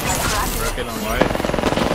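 Rapid automatic gunfire from a video game as a whole magazine is emptied, a fast even burst of sharp shots in the second half, following a stretch of game noise and voice chatter.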